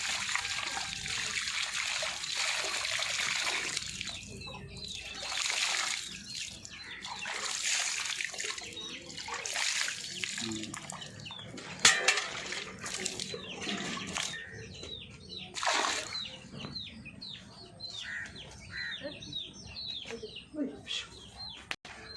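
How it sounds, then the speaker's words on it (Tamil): Water trickles and splashes onto a newly planted plant outdoors, a soft irregular pour with birds chirping, a dog and a rooster audible in the background. "இதுக்கு இப்போ தண்ணி ஊற்றிடலாம்."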